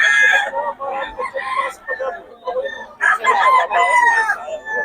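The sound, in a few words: rooster crowing and clucking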